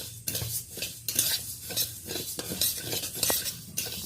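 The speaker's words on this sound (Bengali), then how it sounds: "4-5 মিনিট ধরে কন্টিনিউয়াস নেড়ে চালটা মোটামুটি অনেকটাই ভেজে গেছে" Rice dry-frying in a pan while being stirred continuously, with repeated scraping strokes of a utensil against the metal over a light sizzle.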